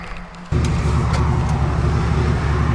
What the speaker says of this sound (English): So let's take it for a test drive.